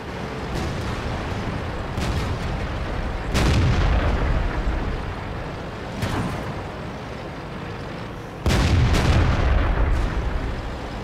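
Tank cannon shots in World of Tanks boom in several sharp, loud bursts spaced a few seconds apart over a steady rumbling engine drone.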